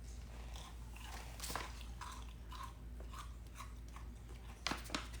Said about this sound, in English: Got a nice crunch.